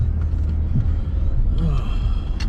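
Steady low road rumble inside a car being driven to work, continuous and fairly loud throughout, with faint creaks and a brief higher whine near the end.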